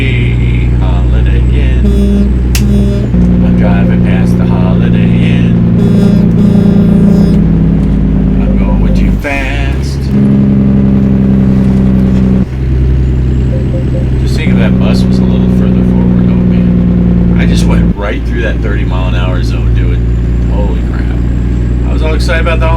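A Kenworth truck's engine in American Truck Simulator drones loudly and continuously, with gear shifts and rev changes marking several distinct stretches, while a person talks over it throughout.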